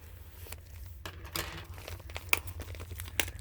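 Crackly paper being crinkled and handled while making a junk journal, soft scattered rustles and crackles with a few sharper crisp snaps, close and fairly quiet over a low background hum.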